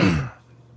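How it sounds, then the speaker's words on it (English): A single short cough, loud and close, lasting a fraction of a second before dropping to quiet room tone. "don't know why I'm coughing like that"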